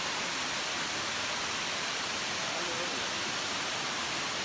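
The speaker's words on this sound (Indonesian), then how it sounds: "Ini air terjunnya keren banget." A waterfall in Laos roars as a dense, unbroken wash of falling water, loud and steady with no pauses.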